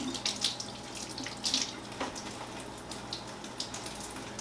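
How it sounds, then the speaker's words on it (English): Steady stream of tap water running into a sink, a continuous soft splashing hiss with slight fluctuations, no voices. "And this here again is warm water."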